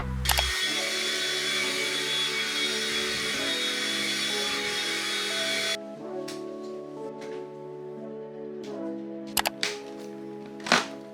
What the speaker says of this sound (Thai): และแผ่นกรองของเครื่องดูดฝุ่นนี้ สามารถล้างทำความสะอาดได้ เพื่อสร้างแรงลมความเร็วสูงได้อย่างยาวนาน